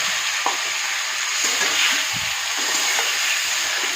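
Ginger-chili paste and tomato sautéing in a pan for a vegetarian potato curry, a loud, continuous hissing sizzle close by with occasional soft stirring knocks underneath, no voices.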